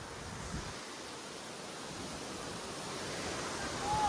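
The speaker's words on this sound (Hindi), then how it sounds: "और मैं आ गया हूँ झरने के पास" A constant, even rush of falling water from Singpur waterfall in Banswara fills the air, a soft unbroken roar with no pauses.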